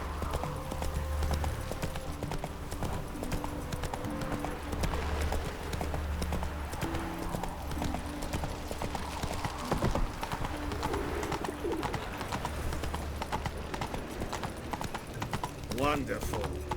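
Roach the horse gallops in The Witcher 3, hooves clip-clopping in a steady rhythmic beat throughout, with a voice talking over it and a brief whinny-like call near the end.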